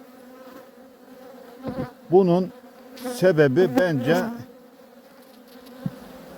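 Honeybees buzz steadily at the mouth of a crowded hive, close by, while someone talks over them and a few louder wing hums rise briefly.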